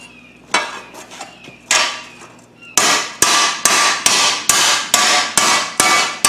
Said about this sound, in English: you let the hammer do the work. Don't force it into the metal.